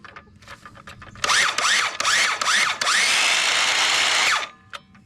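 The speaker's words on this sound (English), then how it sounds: "Then you can put it into the circular saw." A Milwaukee cordless circular saw, powered by a DeWalt battery, spins up in short loud bursts, winding up and down several times. It then runs in one sustained high whine for about a second and a half before spinning down.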